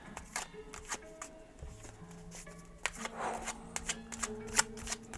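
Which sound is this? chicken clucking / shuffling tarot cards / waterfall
shuffling tarot cards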